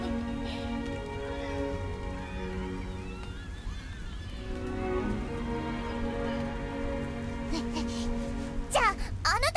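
Rain in the game Deemo II, a steady patter under music-like tonal layers and a speaking voice, with a few sharp sweeping accents near the end.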